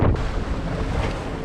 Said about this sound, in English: it's just straight into the wind, straight into the waves, so pretty choppy